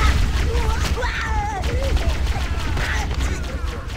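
Gunfire from shooting Grunts in Halo CE rattles in dense bursts as a continuous fusillade, loud and close, with game sounds and voices mixed in throughout.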